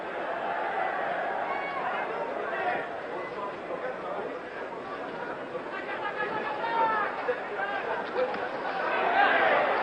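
An excited French crowd at the Carlos Monzon vs Jean-Claude Bouttier boxing match fills the arena with a dense, continuous roar of chatter and shouting that swells toward the end.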